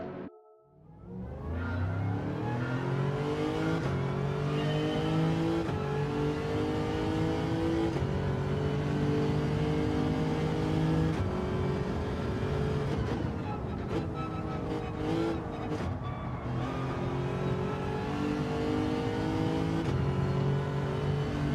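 A Group 3 race car engine in Gran Turismo 7 drones and revs steadily, climbing through the gears with rising pitch and dropping at each shift, loud and continuous throughout, with a voice speaking faintly under it.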